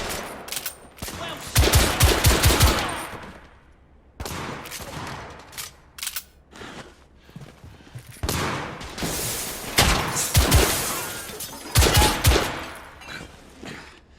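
Gunfire in the video game The Order: 1886 comes in loud, dense bursts of rapid automatic shots with separate single reports between them, alternating with short quieter gaps.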